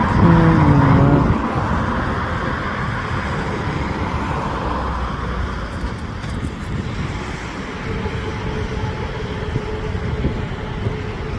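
An 11.1-metre single-deck bus works through a corner on a Gloucester street, its engine a steady low drone with a brief louder opening burst, then a faint rising whine underneath as it pulls on.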